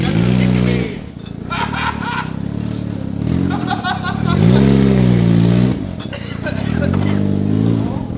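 A car engine revs up and down in strong rising and falling surges while the driver works the clutch. The engine is loud and close, with shouting voices over it and some clatter.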